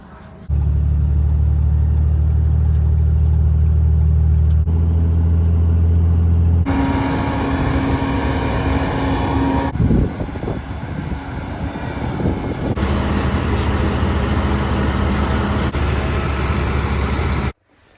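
Gleaner F3 combine harvester shelling corn, its engine driving with a loud, steady low rumble and drone that shifts in tone across sections, with wind buffeting the microphone.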